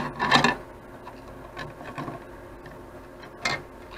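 A 3D printer motherboard fan duct being trimmed, a few short rasping scrapes of a cutting or filing tool on plastic, close and fairly quiet, with gaps between strokes.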